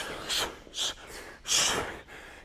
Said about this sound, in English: Good exhales.